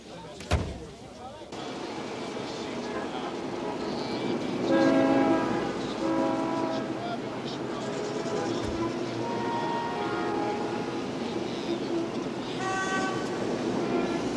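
A subway train runs along the tracks with a steady loud rumble and roar. Several sustained horn-like tones sound over it, and voices can be heard under the noise.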